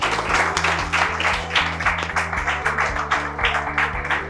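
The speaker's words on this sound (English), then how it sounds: "You guys clap for Geeta Bhabhi." Audience clapping at a senior-batch speaking competition at an English academy; rhythmic, fairly loud claps pulse steadily over a sustained droning tone in the background.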